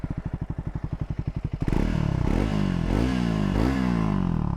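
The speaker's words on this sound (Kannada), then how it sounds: "ಸ್ಟಾರ್ಟ್ ಮಾಡ್ತೀನಿ ನೋಡಿ ಇಂಜಿನ್ ಹೆಂಗೆ ಸ್ಟಾರ್ಟ್ ಆಗುತ್ತೆ ಅಂತ." A 2025 Triumph Scrambler 400X being started: a rapid rhythmic starter cranking gives way to the engine catching and idling loudly close by, with a few throttle blips rising and falling.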